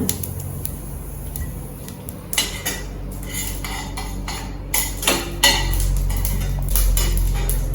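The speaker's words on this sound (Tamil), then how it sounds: "இப்போ கடுகு நல்லா பொரிஞ்சிட்டு இருக்கு" Rapid irregular crackles and pops sizzle close up as mustard seeds burst in hot oil, with a few sharper clicks mixed in.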